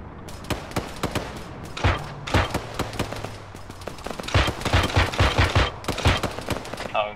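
Close, loud gunfire in the military shooter Arma 3: rapid bursts and single shots crack in irregular clusters, with heavier thumping volleys building toward the end.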